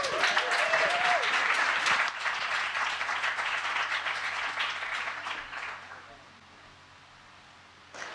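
An audience claps in dense, close applause to welcome speaker Sara Chipps, sustained for several seconds before fading out near the end.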